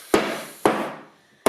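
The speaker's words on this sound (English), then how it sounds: "giving it a few good hard taps" A few hard taps strike a white laminate dining table top: two sharp knocks, each ringing briefly, with a third at the very end.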